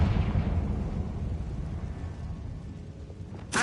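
A booming Confringo blasting spell from the Hogwarts Legacy video game erupts at once and rumbles on as a low, broad roar that slowly fades, with a sharp new burst right at the end.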